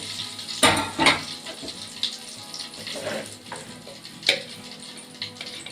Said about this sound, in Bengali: কড়াই এই তেলের মধ্যে না আমি সামান্য একটু জিরে দিয়ে দেব